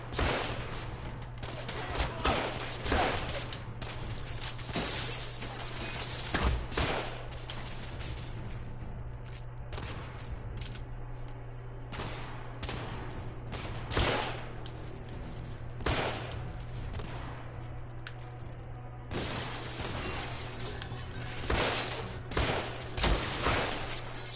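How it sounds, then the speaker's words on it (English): Gunfire in The Order: 1886 sounds as repeated sharp shots at irregular intervals, some in quick bursts, over a steady low ambient hum, with vases being shot. "Oh, you can shoot the vases."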